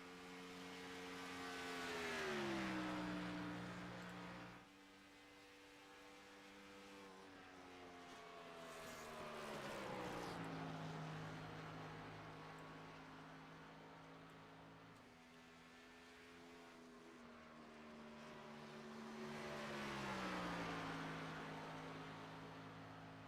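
A race car engine in iRacing roars past three times on a qualifying lap, each pass rising to a loud high-revving whine then falling in pitch as it fades, with gear-like steps between.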